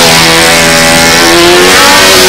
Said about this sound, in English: It's got a raspy exhaust note though